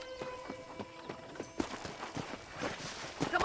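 Horse hooves clip-clop in Red Dead Redemption, a steady walking rhythm of close, distinct hoofbeats that grows a little louder and denser partway through.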